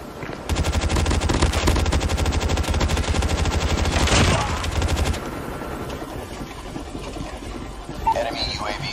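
A stealth chopper in Call of Duty gives off a rapid, steady mechanical pulsing mixed with bursts of automatic gunfire. The sound is loud for several seconds, then eases into a lower rumble, with voices talking over it.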